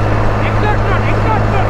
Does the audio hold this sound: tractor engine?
yes